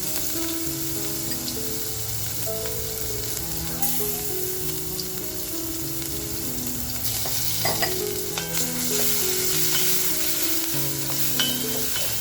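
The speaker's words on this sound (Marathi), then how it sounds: "ठेचा आपल्याला छान असा खमंग परतवून घ्यायचा आहे." Coarsely crushed garlic and green chilli thecha sautés in a pan with a pinch of asafoetida, giving a constant bright sizzle with occasional stirring scrapes under steady background music, and no talk.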